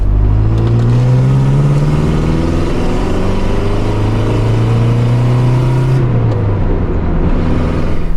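Car with a 2.4-liter diesel engine pulling away and accelerating, a loud, close engine drone rising in pitch through the gears with a brief drop at a shift, no talking over it.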